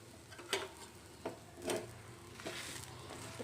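A green gram dosa (pesarattu) sizzles softly in oil on a pan, with a steady quiet hiss and a few light scraping or tapping sounds.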